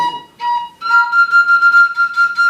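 Clear, breathy Sundanese bamboo suling flute tones played up close, one note then a higher note repeated in short pulses.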